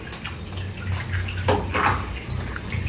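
Water draining and dripping down from an opened membrane during membrane testing, a steady splashing trickle with a few louder splats.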